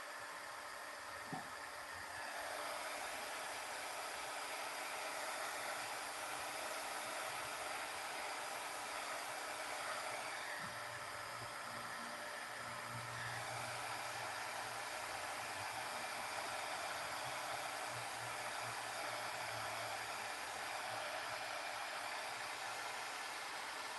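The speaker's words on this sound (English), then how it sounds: "Just going to heat them off these quick." A heat tool blows hot air over craft pieces, a steady broad whooshing roar running close and fairly loud from start to finish, with faint handling clicks beneath it.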